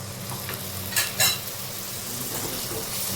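A spice masala paste with turmeric, salt, a little sugar and a splash of water is stir-fried for chicken boti. It gives an even, close sizzle broken by a pair of quick spatula scrapes near the middle.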